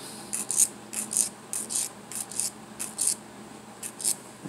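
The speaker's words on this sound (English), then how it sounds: "again I'm going to file down that end" Small file rasping down the cut end of a wire coil for a bead pendant, a faint, close scratching repeated in short quick strokes of two or three at a time, alone with no talk.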